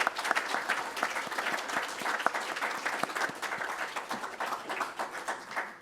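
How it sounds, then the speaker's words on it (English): An audience claps for a speaker after a talk, dense applause with many distinct hand claps, fairly close and loud at first, then gradually tapering off over about six seconds. "How about a round of applause for Dean?"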